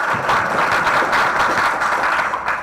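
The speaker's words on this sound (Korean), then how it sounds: "박수로 환영해 주시길 부탁드립니다" Audience applause welcoming a guest at a World AIDS Day seminar, a steady, dense wash of clapping that holds at an even level from start to finish with no talk over it.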